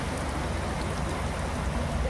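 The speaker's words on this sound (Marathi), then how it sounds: "दाखव पाऊस बघा एवढा जोरात पाऊस पडतोय" Heavy monsoon rain pours down at a village rubber-ball cricket tournament in Tala, Maharashtra, a dense, steady hiss, loud and close, with no break for the whole stretch.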